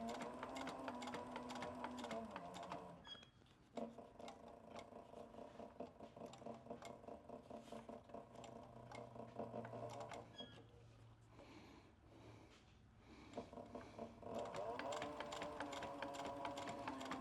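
A sewing machine with a standard presser foot stitches leather piping in rapid, rhythmic mechanical bursts with short pauses between runs, close and fairly quiet.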